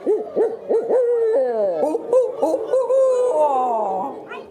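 Human voices imitate barred owl calls, a close, loud run of bouncing hoots that rise and fall, some dropping low into drawn-out sliding notes, carrying on continuously with no ordinary talk.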